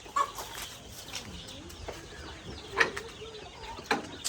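Fayoumi chickens cluck nearby in scattered short calls and soft clucks over a quiet farmyard background, with no talking.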